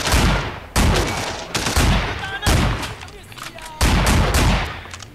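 Machine gun fire in the video game Sleeping Dogs: several loud, sharp bursts of automatic shots, each a rapid string of cracks that decays before the next burst starts, with no talk over them.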